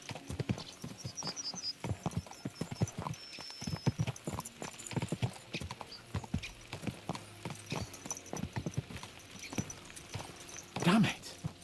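Horses galloping in a medieval video game, a quick rhythmic run of hoofbeats clip-clopping steadily close by, ending in a brief whinny, with someone talking over the hooves.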